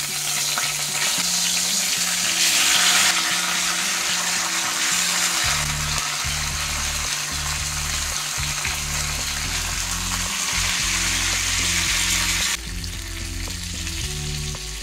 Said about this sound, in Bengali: এবার এর মধ্যে দিয়ে দেবো লাউ পাতা